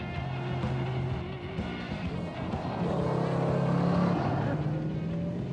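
A Dodge Charger R/T muscle car's V8 engine rumbles steadily and fairly loud, with a low droning tone that swells slightly midway, heard alone without talk.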